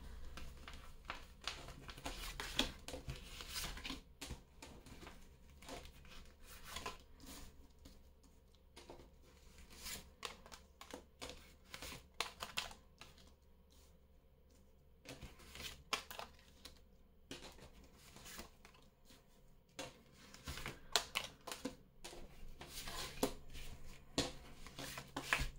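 Tarot cards are shuffled and drawn in a quiet, continuous patter of soft card riffles, slides and rubs close by, without talk.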